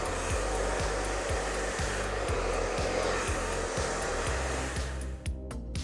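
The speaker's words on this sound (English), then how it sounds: "we're gonna take the expert thermal styler and start blow drying the hair" An Expert Thermal Styler blows a steady, loud whirring stream of air while drying hair, a continuous motor drone with a regular rhythmic pulsing, cutting off abruptly at the end.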